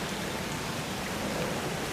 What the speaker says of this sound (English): the garden just enjoys the rain and the water